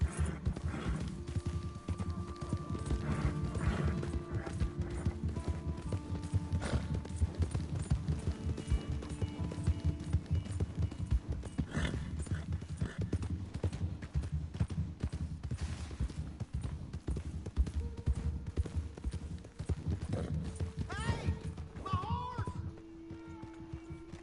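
A horse gallops in Red Dead Redemption 2, with rapid rhythmic hoofbeats pounding close and steady over the whole stretch, joined by occasional voices and snorts, easing near the end.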